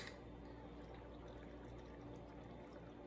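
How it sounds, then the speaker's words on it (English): Steady splashing pour of boiling brine filling canning jars, continuous and fairly close, with no talking. "fill these jars with this boiling brine"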